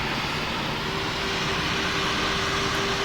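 An airplane engine in a flight video game gives a steady, dense, broadband roar with a constant low hum running under it. The drone stays loud and unchanging throughout, with no talking.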